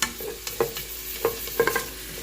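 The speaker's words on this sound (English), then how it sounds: "I'm gonna saute your onions." Onions sautéing for collard greens in a pressure cooker give a soft sizzle broken by a few brief stirring scrapes, fairly quiet and close, with no talking.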